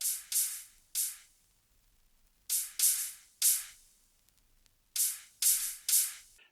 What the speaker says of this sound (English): I layered it with a closed hi-hat and then also a little bit of another shaker